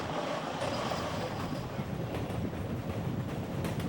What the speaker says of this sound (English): Further up the tracks, our train passes Hyde Park Station